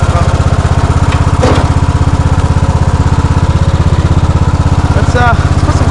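A custom-built snow lawnmower's small engine runs steadily and evenly at close range, a fast continuous putter with no bogging, loud throughout and alone with no talking.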